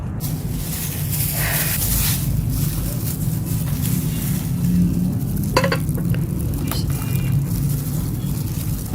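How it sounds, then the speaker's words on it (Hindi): A blender whirs continuously blending coconut and water, with a low motor drone and churning liquid noise, steady for several seconds with a few brief clatters. "मैं ब्लेंड करके आपको दिखाती हूँ"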